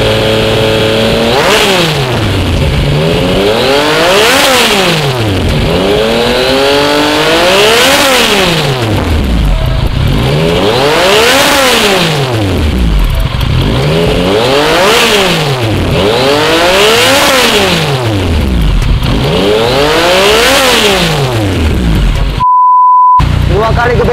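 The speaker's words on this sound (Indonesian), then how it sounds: "Begitulah untuk suara knalpot Akrapovic di MT-09 nya teman-temannya." Yamaha MT-09 motorcycle fitted with an Akrapovic exhaust, revved hard in repeated loud blips, engine pitch sweeping up and down about six times, close and continuous, with a brief electronic beep near the end.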